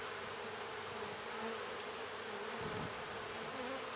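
Honeybees swarm around an open hive during a spring inspection, a dense, continuous buzzing hum that stays close and even, with no voices over it.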